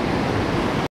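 Ocean waves wash steadily on the Oregon coast with a broad, loud, continuous rush, close by and with no talk.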